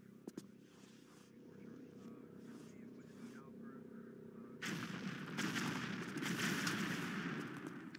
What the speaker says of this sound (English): So that caused an explosion.